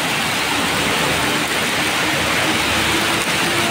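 Heavy rain pours down in a steady, dense roar of water hitting surfaces, loud and continuous with no break and no voices.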